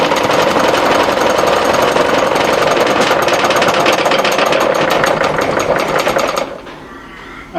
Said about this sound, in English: It does shake the lathe around a bit